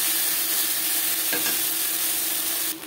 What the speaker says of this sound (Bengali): ভেজে নেওয়ার পর দিয়ে দিলাম কাঁচকলা